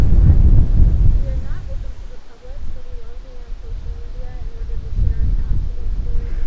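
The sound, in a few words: wind blowing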